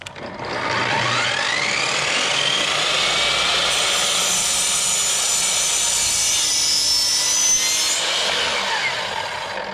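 A power saw cuts wood for a farmhouse console table, a loud, continuous whine of blade through board sustained for nearly ten seconds, with pitch shifting slightly as the cut progresses and no talking.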